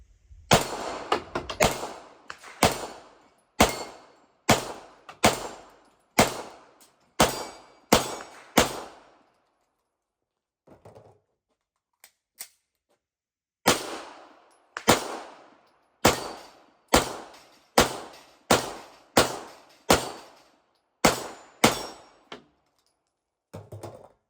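An Italian police-issue Beretta 92S pistol fires with surplus magazines, a sharp string of close, loud shots at a fairly even pace, broken by a pause and some faint handling clatter before a second steady run of shots.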